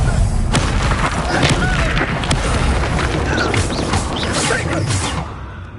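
A fire spell is cast in Hogwarts Legacy, a fantasy action video game, heard as a loud, continuous booming whoosh of flames with crashing impacts, dense and close, fading slightly at the end.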